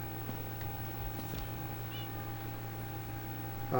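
Cats meowing in Minecraft Skyblock, a couple of short high mews over a steady low game hum, fairly faint and without talk.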